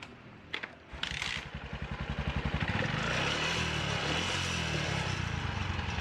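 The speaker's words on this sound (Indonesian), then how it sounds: "sekarang saya hidupkan motornya dulu" Motorcycle engine cranking with a brief starter whir, then catching and settling into a loud, steady idle that runs to the end, close to the microphone.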